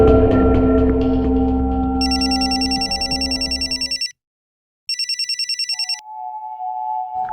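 A telephone bell rings in two trilling bursts with a short silent gap between them, loud and close. A low tonal drone plays under the first burst and then cuts out.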